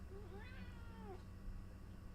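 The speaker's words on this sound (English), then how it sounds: "I have a very loud cat, I apologize." A cat meows close by in a drawn-out, wavering cry that rises and falls, over a steady low background hum.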